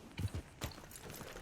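Horse hooves clip-clop faintly in Red Dead Redemption 2, a few soft irregular thuds under low game ambience.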